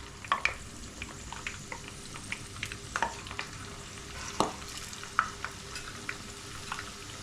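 Chicken 65 pieces being fried in oil, a soft sizzle broken by sharp crackles and pops, with occasional utensil scrapes, fairly faint and with no talking.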